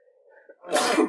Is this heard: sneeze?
yes